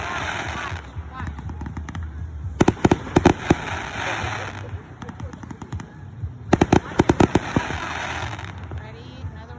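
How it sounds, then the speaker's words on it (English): Fireworks burst in two rapid volleys of sharp crackling bangs at a 3rd of July outdoor display, loud against a steady background hum, with people talking nearby. "Look at the fireworks."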